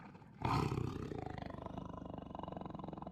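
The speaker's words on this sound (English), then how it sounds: "A predatory growl erupted from behind the caravan." Tiger growl sound effect in a video game, a sudden loud roar that breaks in and trails off into a pulsing, rumbling growl, close and alone.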